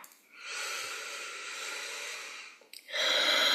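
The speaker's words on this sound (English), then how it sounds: "Take another deep breath." A long, deep breath drawn in and let out during a guided meditation, soft and close, followed by a second stronger breath.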